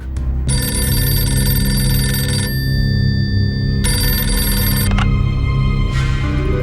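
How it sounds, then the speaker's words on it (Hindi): A telephone rings in two long electronic bursts separated by a pause, loud and close, with a steady low hum underneath. "16 दिसंबर की सुबह जनरल सैम मानेकशॉ ने जनरल जैकब को फोन किया।"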